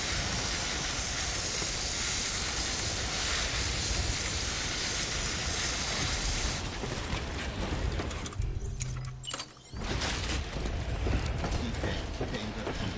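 Spray hisses in the video game Death Stranding: a loud, continuous, broad hiss that runs almost nonstop, briefly thinning to a mechanical rattle before surging back.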